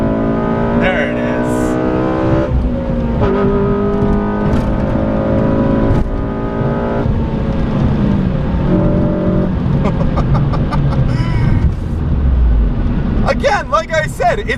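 A Honda Civic Si pulls hard along an open highway, its engine note rising steadily and loud under continuous wind and road roar, with someone talking over it throughout.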